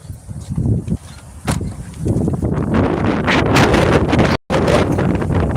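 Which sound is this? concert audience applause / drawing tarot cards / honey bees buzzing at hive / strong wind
strong wind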